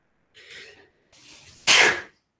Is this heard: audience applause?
no